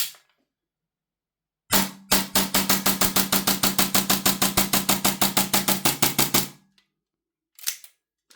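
A Tokyo Marui Glock 17 Gen 5 airsoft pistol running on refilled propane fires a rapid string of about two dozen sharp, evenly spaced gas-blowback shots, close and loud, followed by silence and a couple of isolated later clicks.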